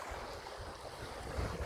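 Waves on a sandy beach in strong wind, heard as a steady, dense roar of surf with heavy wind noise buffeting the microphone throughout.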